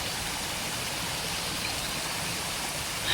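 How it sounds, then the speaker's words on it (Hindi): Light rain patters steadily through a jungle on a cloudy day, a broad, even hiss of falling drops with no distinct individual splashes and no one speaking. "बादल आ रखे हैं, हल्की हल्की बारिश हो रही है"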